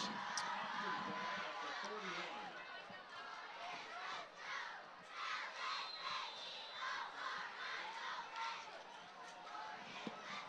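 A football game crowd with cheerleaders, from little ones to the varsity cheer squad, cheers and chants at a distance, a steady mix of yelling and chatter over ten seconds, with commentators talking over it.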